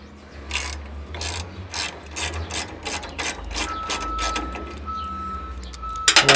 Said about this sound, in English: Loosen the belt, take the motor off.